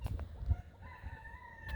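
Several turkeys call and gobble among other birds, in rough low bursts. The calls come at close to middle distance and fairly faint, under a steady tonal background.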